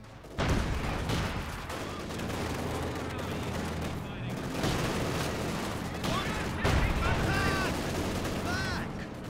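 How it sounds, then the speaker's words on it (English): Gunfire and a grenade blast in Company of Heroes 2, a World War II strategy game: dense, continuous battle noise with repeated sharp shots and a heavier burst partway through, while voices call out over the fighting. "Look out! Grenade!"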